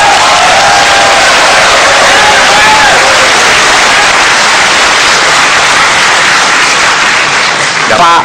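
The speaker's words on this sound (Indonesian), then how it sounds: "Kita berikan tepuk tangan kalau itu." Loud, dense applause and cheering fill a large hall during the June 2014 Indonesian presidential and vice-presidential debate, a steady broadband roar that stays constant throughout with crowd noise mixed in.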